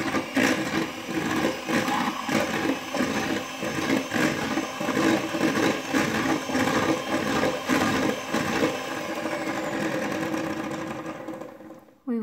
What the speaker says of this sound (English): So let's mix all our ingredients together. Let's start with our egg yolks.